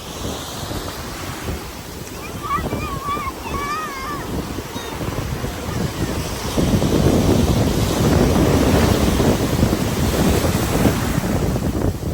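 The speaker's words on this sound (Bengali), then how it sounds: "অবশ্য রিশান একটু ভয়ও পাচ্ছিল, কারণ ঢেউগুলো তো নেহাতি ছোট নয়।" Ocean waves roll and crash steadily against the shore at Ocracoke Island, Outer Banks, North Carolina, with rough wind buffeting the microphone throughout and the surf growing louder midway.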